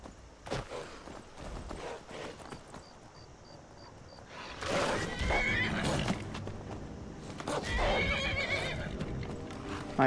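A horse in the video game Skyrim neighs loudly and whinnies, followed by brisk clip-clopping hooves and rising movement noise, all close and fairly loud without talk.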